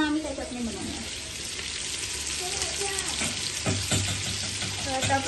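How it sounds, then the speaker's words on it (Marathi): Lightly crushed garlic frying in a pan in a home kitchen, a steady close sizzle with occasional stirring scrapes and faint background voices. "मी लसूण टाकला फक्त थोडंसं चेचून, आणि आता ते फ्राय करायला टाकलं"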